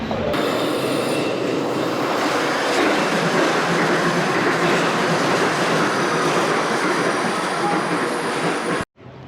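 A London Underground train runs loud and close for several seconds, its wheels roaring and squealing on the rails with a rattling clatter, then cutting off abruptly near the end.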